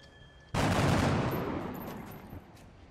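A single loud burst of gunfire in XCOM: Enemy Within starts abruptly after a quiet moment, a close, crackling volley that rings on and slowly decays over about two seconds.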